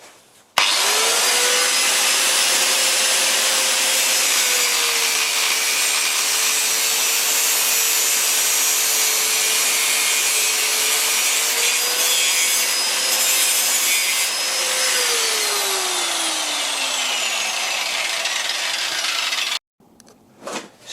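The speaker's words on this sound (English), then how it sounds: "I'm going to first cut off this very last bit of thread" Power tool cutting through the threaded bolt end of a Fiat 500 front shock absorber, a loud continuous grinding whine that bends in pitch as it bites, then stops abruptly near the end.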